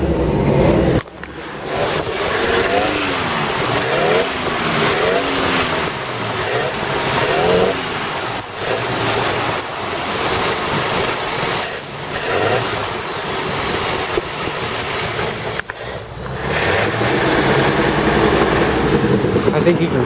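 A 1952 Packard 300 sedan's engine fires up and runs, a steady loud mechanical rumble with revving swells across the whole stretch, with someone speaking over it.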